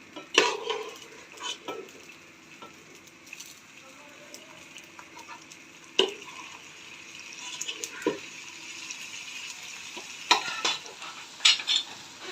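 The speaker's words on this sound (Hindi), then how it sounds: "अब इसके ऊपर हम डालेंगे ये वाला सालन" Spoon scooping mutton curry onto a layer of rice in a biryani pot, soft wet slops and scattered metallic clinks and taps, close and moderate, without talk.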